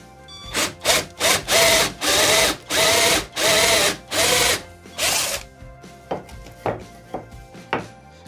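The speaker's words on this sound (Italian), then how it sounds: "Mi posso permettere di conseguenza, come vi dicevo, per un passotto, almeno per questa boccola o bussola, di andare a creare un preforo da 10 mm." Power drill bores a 10 mm pilot hole into fir wood, running in several long, loud grinding bursts. Shorter, lighter drilling pulses follow and fade in strength toward the end.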